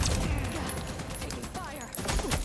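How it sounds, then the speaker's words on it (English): Sci-fi combat in The Expanse: Osiris Reborn, with sustained rapid gunfire crackling loud and dense throughout, and voices speaking under the shooting. "Taking fire."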